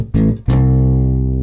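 Two plucked notes on a bass guitar form a major third: a short first note, then a higher second note that rings out and sustains, clear and alone.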